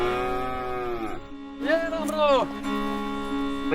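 An old, weak cow that no longer gives milk lows in long drawn-out moos, two calls close by at moderate loudness against faint background noise.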